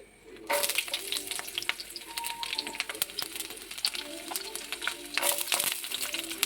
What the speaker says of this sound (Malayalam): അങ്ങനെ കടുക് പൊട്ടി വരുന്നു